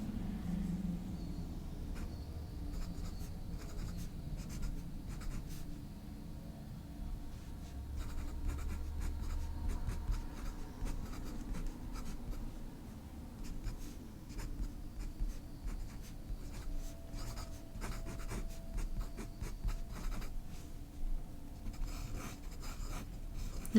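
A Scythe fountain pen nib scratches across paper in a soft, continuous, uneven scraping of short strokes, close and faint, with no talk.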